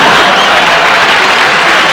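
Applause from a stand-up comedy audience fills the room, a dense, steady wash of clapping at close range with no pauses.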